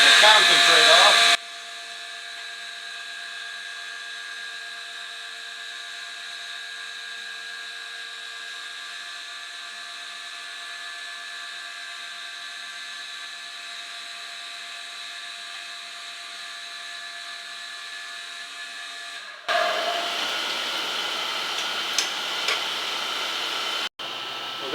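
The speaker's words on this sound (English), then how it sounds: "You can turn the coolant on just to wash the concentrate off." A surface grinder works soft steel with the coolant running, producing a long, steady tonal whine and hum in a workshop, with louder bursts at the start and near the end.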